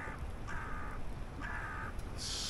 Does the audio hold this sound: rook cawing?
yes